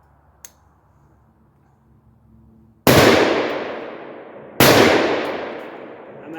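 Two sharp, loud shots from a Palmetto PA-10 Gen3 AR-10 rifle fired at a 200-yard target, about two seconds apart, each followed by a long, fading outdoor echo after a quiet lead-in.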